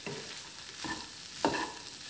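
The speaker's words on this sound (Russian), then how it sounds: "Еще пусть немножко жарится." Mushrooms fry in a pan with a steady soft sizzle, broken by a few short scraping stirs, close and moderately loud, and no voices.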